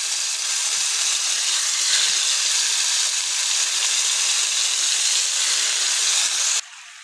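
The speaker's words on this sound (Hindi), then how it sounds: "अब इनको गोल्डन फ्राई करने तक चिकन को फ्राई कर लेना है।" Chicken pieces fry in about half a cup of oil in a pan, a steady loud hiss and sizzle running continuously for several seconds, then dropping off abruptly to a quieter hiss near the end.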